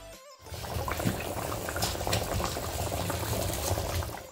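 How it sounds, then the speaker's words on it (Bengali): Koi fish curry broth boils hard in a pan, a close, steady bubbling and seething that starts abruptly after a brief silence and carries on evenly without any voices. "ঝোল ফুটে এসেছে"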